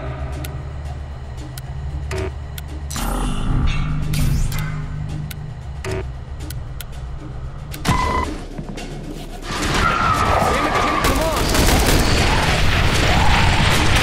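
Bombardment explosions in the video game The Bureau: XCOM Declassified, with loud booming blasts and crashing impacts rolling over one another, heavy rumble building late and sharp clicks scattered through, no speech.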